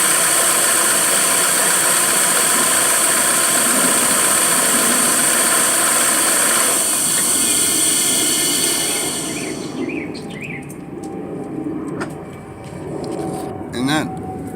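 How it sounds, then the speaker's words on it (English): A Chevy Aveo engine idles roughly with a steady broadband hiss from a cracked intake manifold, loud and continuous at first, then easing off with some clicks and faint mechanical sounds near the end. "That hissing noise as well, and the rough idling goes along with it."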